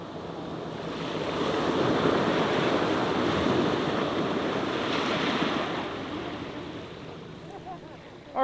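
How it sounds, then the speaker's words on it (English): Surf washing over a rocky intertidal shore in LA County, a steady broad roar of breaking water mixed with gusty wind buffeting the microphone, swelling and easing slightly over several seconds. "we are in the rocky intertidal area"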